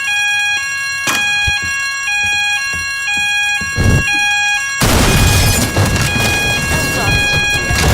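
In the Teardown video game, a shopping center fire alarm sounds with steady, repeating electronic tones and a broadcast evacuation voice. Midway, a loud crashing burst of destruction swells over the alarm and keeps going.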